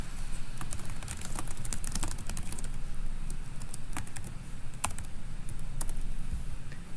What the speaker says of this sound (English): I can begin typing.